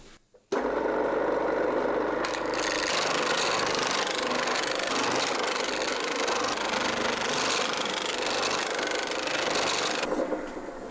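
A metal shrinking die on a machine works and gathers a steel mudguard for a home-built chopper motorcycle, giving a loud, steady mechanical drone that starts abruptly and runs without a break for about ten seconds.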